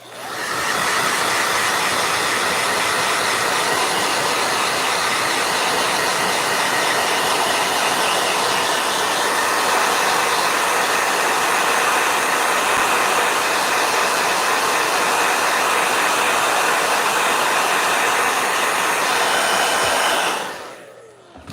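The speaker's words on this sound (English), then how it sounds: "Let me blow dry this real quick." A hair dryer blows in one continuous loud, steady roar with an airy hiss, running without a break for about twenty seconds before cutting off, with no talking over it.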